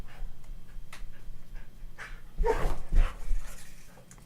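A dog barks and whimpers close by in a quiet room, a few short vocal bursts in the second half rising over low background hum.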